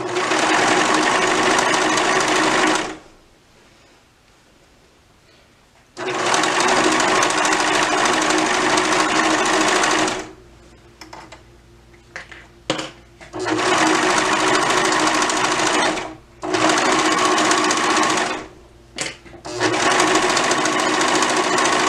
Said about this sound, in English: I just sewed over the seam for the yoke.